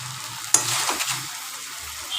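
Ghee being stirred into a pan of green banana peel curry, a brief scrape followed by a soft, steady sizzle close up, with no one talking.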